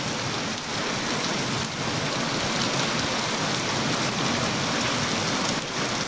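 Heavy downpour in Kolar district pours steadily in a dense, continuous hiss with no voices, unchanging throughout.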